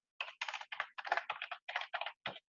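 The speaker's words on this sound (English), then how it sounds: "So I'm just going to type in" Typing on a computer keyboard while entering a web address, about ten quick bursts of clicking keystrokes in an irregular rhythm, close and clear with no talking.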